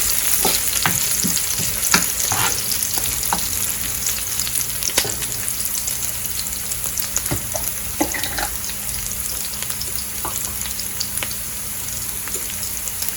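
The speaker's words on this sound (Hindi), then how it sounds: "भगार को हिलाते जाएं, ये ना हो कि जल जाए।" Tadka of ginger, onion and cumin sizzles steadily in a pan for dal, with frequent scraping and clicking from a spoon stirring, close and continuous throughout.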